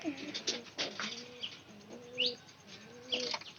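Domestic fancy pigeons in a hobbyist's loft coo in repeated low, rolling phrases, roughly three calls a few seconds apart, close but quiet, with faint chirps in between.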